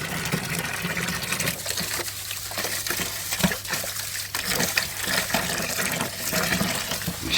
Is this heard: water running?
yes